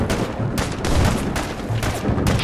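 Rapid bursts of gunfire and booming shots crackle through a Fallout 4 Nuka World firefight, loud and dense with several volleys across a few seconds.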